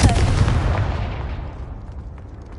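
Confringo blasting spell going off in a video game, a loud, close explosive boom that hits at once and then rolls away in a long fading rumble.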